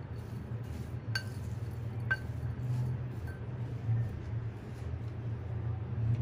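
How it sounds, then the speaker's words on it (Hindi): A spoon clinks against a bowl while salt and cumin are mixed into sliced onions for onion pakoras, giving a few sharp, spaced metallic taps over a steady low background hum. "चम्मच से अच्छी तरीके से मिक्स करेंगे।"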